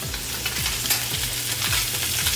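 Salmon cake flipped in a hot frying pan, loud close sizzling crackle throughout with a few scraping clicks of a spatula against the pan.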